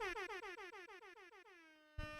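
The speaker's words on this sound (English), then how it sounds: "I'm just going to air horn everybody up." A loud air horn sound effect blasts in a rapid series of short repeated honks, then holds one long sustained tone before a burst of noise cuts in.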